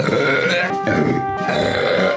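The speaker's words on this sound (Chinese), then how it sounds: "喝完可乐横扫饥饿，然后满意的打上一个嗝" A woman burps after drinking room-temperature canned cola, producing a single loud, drawn-out belch with a rough, grunting tone that fills the short stretch.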